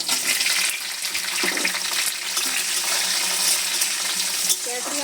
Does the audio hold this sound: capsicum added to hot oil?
yes